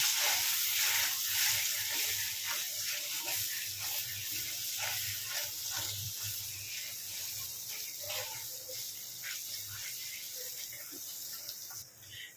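Ground gongura paste frying in a pan, a faint, steady sizzle and hiss that runs throughout with occasional soft stirring sounds.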